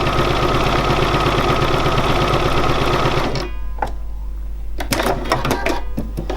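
A Bernina 475QE sewing machine runs a straight-stitch free-motion embroidery pass, a loud, fast, steady mechanical chatter that stops partway through, followed by a few short clicks and taps.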